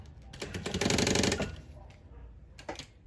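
Sewing machine stitching a transparent synthetic panel folder in a short close burst of rapid needle clatter, tapering off with a few lighter mechanical taps.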